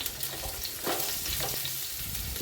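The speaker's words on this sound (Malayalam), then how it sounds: "അതിലൊക്കെ കുറച്ച് നെയ്യ് ഒഴിച്ചു കൊടുത്തിട്ടുണ്ട് രണ്ട് കുറച്ച് തേങ്ങാക്കൊത്ത് അതിലിട്ടൊന്ന് വറുത്തെടുക്കുകയാണ്" Coconut pieces frying in ghee in a large pan, a brief close steady sizzle with soft crackles and a stirring scrape, no voices.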